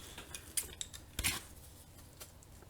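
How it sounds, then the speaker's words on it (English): Scissors snipping while opening autograph mail, a few quiet crisp cuts and clicks close by, with faint handling noise between them. "Have to get the scissors."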